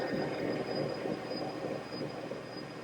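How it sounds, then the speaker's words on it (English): Spirit Fitness XT485 folding treadmill running at its 12 mph maximum speed, a steady close whirring rumble with a rapid rhythmic thumping of the belt and a faint high whine throughout. "Here's how this treadmill looks and sounds at 12 miles per hour."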